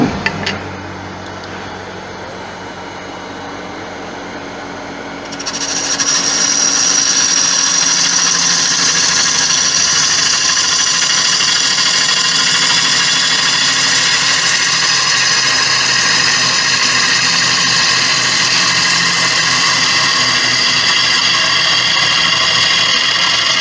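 Gouge cutting a cracked, pale Malaysian Acacia bowl spinning on a wood lathe, a quieter motor hum at first, then a loud, steady, hissing cut that carries on close and unbroken.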